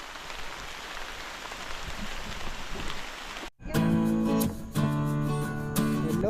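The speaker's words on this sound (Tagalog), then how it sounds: "Labot na kami ng ulan, pababa na kami." Steady rain patters on a mountain trail during a hike on Mt. Buntis, a soft continuous hiss that cuts off abruptly and gives way to music.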